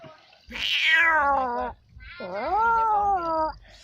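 A person mimics a cat with two long, drawn-out meows, the first high and falling, the second wavering, close and clear.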